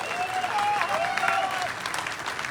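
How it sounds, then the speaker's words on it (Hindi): Loud audience applause at a motivational talk, a thick steady clapping roar with a few voices and cheers rising through the crowd. "एक बार गुलाब जी के लिए जोरदार तालियां यार"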